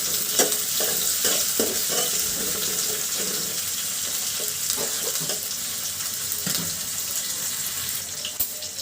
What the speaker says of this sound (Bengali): তেল দিয়ে আমি মাছটাকে সুন্দর করে কষিয়ে নিব